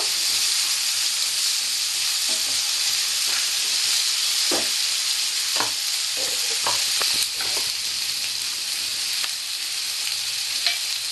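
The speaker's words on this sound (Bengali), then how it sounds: "আলুটা একটু লাল লাল করে ভেজে নেব" Potatoes frying in hot oil for a Bengali-style aloo bori tilapia fish dish, a steady close sizzle running throughout with occasional spatula scrapes and stirring clicks, no talking.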